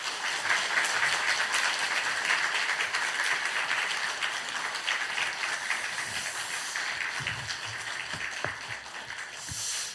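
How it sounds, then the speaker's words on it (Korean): A Korean church congregation at Sunday service giving a big round of applause, a steady dense wash of clapping from a large room, heard alone and fairly distant. "우리 큰 박수 한번 하실까요?"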